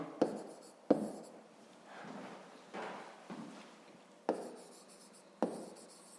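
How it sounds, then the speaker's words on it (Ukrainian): A pen or chalk writes the digit 9 during a fifth-grade maths lesson, with sharp tapping strokes and soft scratchy scribbles, quiet and close. "На цифру пишемо 9"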